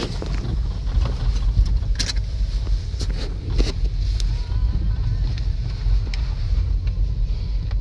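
A car drives across a short stretch on a guided excursion, heard from inside as a steady low road and engine rumble with wind buffeting and scattered knocks and rattles, moderately loud.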